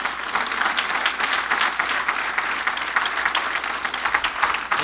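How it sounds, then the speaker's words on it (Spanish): A church congregation breaks into loud, sustained applause, dense overlapping clapping that fills the room evenly throughout with no break. "Un fuerte aplauso al Señor Jesucristo, nuestro Señor."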